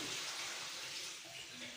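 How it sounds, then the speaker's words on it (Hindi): Water pours steadily into a pot of rice nearby, a short continuous splashing rush at low volume. "अब हम पानी छोड़ेंगे चावलों का"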